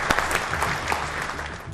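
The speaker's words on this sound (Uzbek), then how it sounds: "Olqishlab qo'yamiz." Applause from an audience at a children's quiz event, dense steady clapping sustained at even loudness throughout, with no voices standing out.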